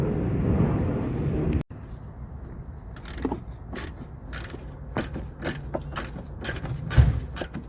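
Ratchet wrench clicking in quick repeated bursts while a steering rack bolt is loosened on a 2010 Chevy Traverse LT during a rack-and-pinion job, close and fairly loud, starting after a short rustle of handling.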